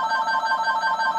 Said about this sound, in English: Who the heck is calling me?